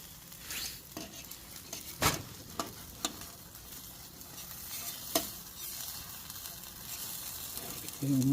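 Breakfast food sizzles and crackles in a hot pan at a cowboy Christmas morning cookout, a steady frying hiss broken by sharp pops and scraping clicks, with a voice briefly at the end.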